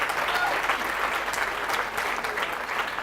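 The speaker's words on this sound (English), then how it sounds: "give him a clap, good on you" Steady, moderately distant audience clapping fills a room at a 2018 fundraiser dinner, a continuous even patter from a crowd without pause.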